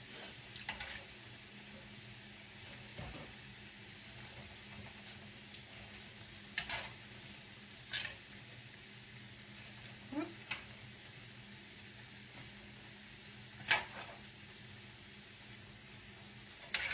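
Grease sizzles and crackles steadily in a pan on a home stovetop while food fries, a low continuous hiss broken by a few sharp clinks and taps of utensils, with no talking.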